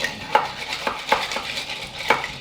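A Calvados cocktail in the style of a mojito is stirred in a glass: four or five regular clinks and scrapes land about every half second over a soft background rustle, close by, with no voices.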